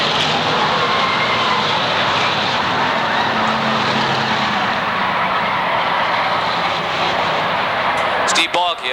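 Pure stock race cars circling an oval speedway, a dense continuous roar of engines close by, with an announcer calling the race over it.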